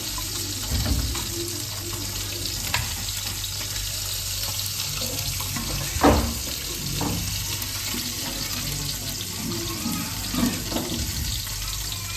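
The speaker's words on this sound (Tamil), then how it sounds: "புளி தண்ணி ஊற்றிக்கலாம்." Tamarind water poured into a pan while cooking fish curry, a running watery pour with light sizzling underneath, steady and close with a few clatters, no talking.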